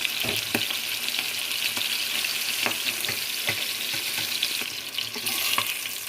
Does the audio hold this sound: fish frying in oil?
yes